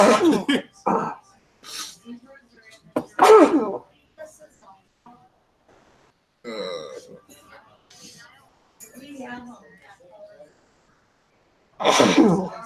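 A sudden sneeze bursts out amid intermittent talking and breathy noises, with quiet pauses between voices and another sharp burst near the end.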